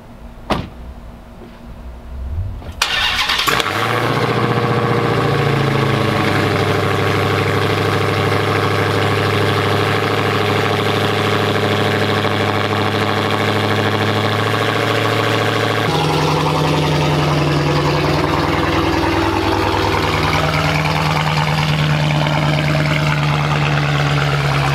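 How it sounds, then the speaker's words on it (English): A Dodge Hellcat with a catless exhaust cold-starts after a brief quiet moment, catching into a loud, deep rumbling idle that holds steady and then settles to a slightly lower drone, close and continuous with no talk. "I'm gonna go ahead and show you guys a cold start real quick."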